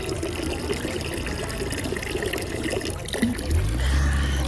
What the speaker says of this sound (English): This is how you drink out of the water fountains in Rome.